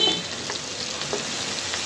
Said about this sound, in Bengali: এটা একটু ভালোভাবে কষাই নেব বলতে কাঁচা গন্ধ যেটা, এটা ছাড়াই ফেলবো।